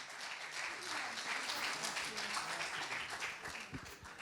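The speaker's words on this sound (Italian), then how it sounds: "lo accompagniamo con l'applauso del pubblico" A studio audience at a televised football awards show applauds as a prize is handed over, continuous soft clapping heard from a distance, fairly faint and even throughout.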